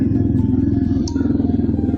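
A motorcycle cruises along a foggy highway on a cold winter ride, its engine producing a loud, continuous low rumble with steady throbbing throughout.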